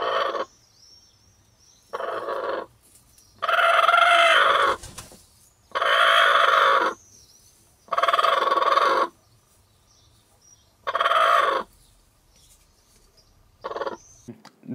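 Hens cluck and crow in six bursts of about a second each, separated by quiet gaps, sounding fairly close with faint background noise between calls.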